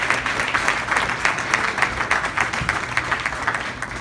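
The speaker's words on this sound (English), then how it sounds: "a round of applause to Sir Hugh" Steady applause from an audience at a luncheon address, dense and continuous clapping at moderate level for the whole stretch, with no voices over it.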